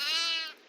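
A goat in the Devour horror game gives a single short, nasal bleat that fades out quickly, fairly quiet and alone.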